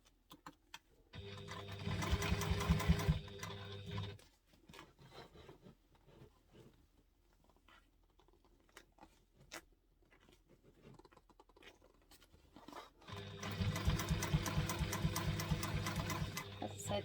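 A sewing machine stitches a bowler bag in two loud, fast bursts of rapid mechanical whirring, with a quieter stretch of faint handling noises between them and no talk.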